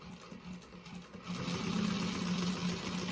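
A sewing machine stitching a fabric bag, its rapid motor whir running close and steady, starting softer and then speeding up louder before holding its pace to the end.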